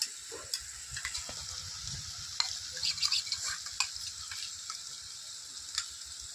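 Ginger and cumin paste frying in oil in a village kitchen, a bright continuous sizzle with rapid scraping stirs and spatula taps, close and busy throughout.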